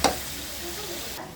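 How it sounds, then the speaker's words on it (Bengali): Chicken pieces sautéing with spices in oil in a kadai, a steady soft sizzle with a stirring scrape at the start, heard close and alone. "মাংসটা এখন ভালো করে কষাই নিব।"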